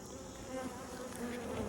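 Honeybees in an opened hive during a fall inspection, giving a continuous close buzzing hum that swells slightly in a brief, unbroken stretch.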